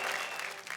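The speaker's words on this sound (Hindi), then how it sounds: "जोरदार तालियों से स्वागत करें।" An audience at a comedy poetry show applauds to welcome a performer, a brief burst of dense clapping from a crowd.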